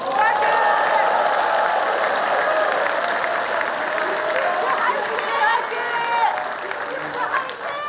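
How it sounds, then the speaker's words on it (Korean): A large audience applauds at the launch ceremony of Gangwon Special Self-Governing Province, a dense, loud, continuous wash of clapping filling the hall and tapering slightly toward the end. "조금 이따가 박수가 나와야 되는데"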